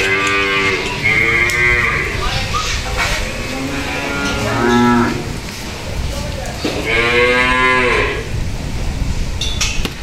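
Cattle at a farm moo in several long, loud, drawn-out calls, with a couple of overlapping lows from nearby animals and faint background noise between them.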